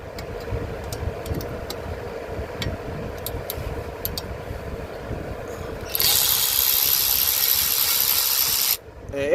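A bolt is backed out of a cover on a C6 Corvette with a ratchet, quick clicking turns near and fairly loud, then a steady hissing rush takes over before cutting off abruptly.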